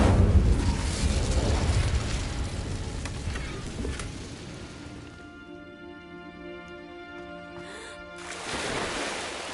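A fire spell cast in Hogwarts Legacy, a loud rushing roar of flame and crackle that swells at the start and fades over several seconds into quieter game ambience, briefly rising again at the end.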